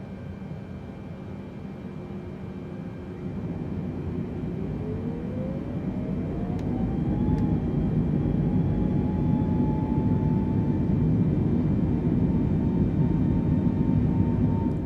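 A large Boeing airliner in Microsoft Flight Simulator climbing out on departure, with a steady loud roar of engines and broadband rushing noise whose whining tone rises in pitch as power builds, continuous with no talk.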